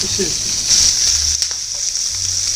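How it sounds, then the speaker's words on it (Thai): Butter sizzling in a hot pan while a pork chop fries, a steady bright hiss with soft crackles, close and loud, with faint background voices. "But I'm going to add a little bit of butter to it."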